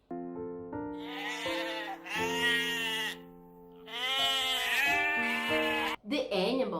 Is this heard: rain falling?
no